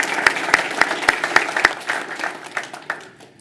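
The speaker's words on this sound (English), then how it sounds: "We'll give them a round of applause." Applause from the audience at a Board of Education meeting, starting with a few loud, distinct claps in a steady rhythm and then spreading into scattered clapping that fades out. No one speaks.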